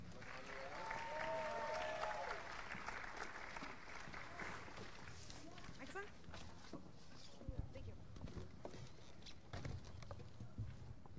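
Applause from an audience at a high school multicultural performance, a dense patter of clapping that starts over a fading sung note and continues, with voices mixed in.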